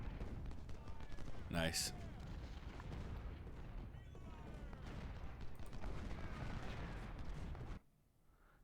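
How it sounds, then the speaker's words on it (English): 24-pounder artillery in Ultimate General: Civil War booms in heavy, rumbling shots amid distant battle noise, under a man's brief speech, before the sound cuts off abruptly near the end. "Might get 1 or 2 shots off with these 24-pounders before the time runs out."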